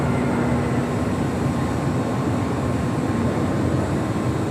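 An airliner rolling for takeoff on runway 25 right at LAX, a broad continuous engine roar with a steady hum, loud and unbroken from start to finish.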